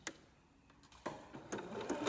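A sewing machine backstitches on an upcycled T-shirt bralette in short, quiet stop-start bursts that pick up toward the end.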